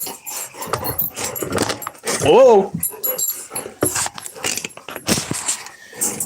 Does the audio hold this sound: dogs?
yes